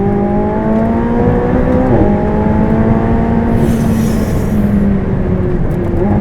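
A 2016 McLaren 675LT engine runs close and loud as a steady idle, then rises in pitch through a revving climb and falls back, with a brief hiss partway through.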